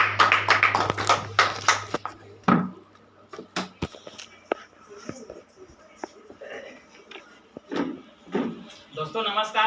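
An audience at an Amway business-plan presentation applauds to welcome the speakers: dense clapping at first thins into scattered, fading claps, with a voice talking over it.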